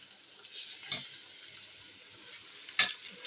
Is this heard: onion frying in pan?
yes